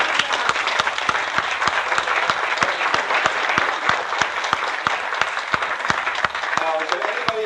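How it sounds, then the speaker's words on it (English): Loud, dense applause from a crowd at a 50th anniversary party, many hands clapping in a steady unbroken roar with crisp individual claps standing out nearby, lasting throughout. "Let's give them a round of applause."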